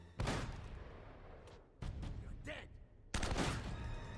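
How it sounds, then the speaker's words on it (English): Gunshots ring out in Uncharted: Drake's Fortune, three sharp reports spaced about a second or more apart, each followed by a rumbling tail, with faint game sounds in between. "I shot him directly in the head"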